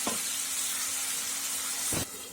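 Onions and tomatoes with salt sautéing in a pan, a soft, steady sizzle and hiss, close and fairly quiet, with two brief stirring scrapes at the start and near the end.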